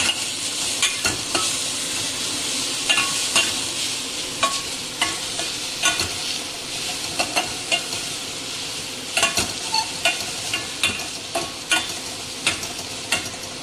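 Red pumpkin cooks in a pan under a steady frying sizzle while a spoon stirs it, scraping and tapping in repeated close strokes, no talking.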